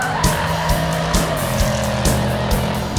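Mercedes-AMG GT driven hard on the gas on a test track, traction control cutting in: loud engine roar with rhythmic stuttering bursts and tire noise as power is repeatedly trimmed.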